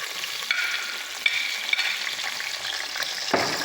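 Large onion and ginger frying in hot oil for a Lahori chicken chickpea curry, a steady bright sizzle with a few soft stirring knocks and a heavier clatter near the end.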